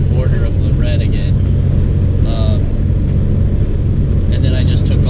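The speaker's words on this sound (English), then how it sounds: "I turned the AC on full blast, and I'm just driving right now" Jeep Cherokee XJ with an overheating problem driving along with the air conditioning on full blast, a loud steady low rumble of engine and blower filling the cabin, with faint higher tones drifting in and out.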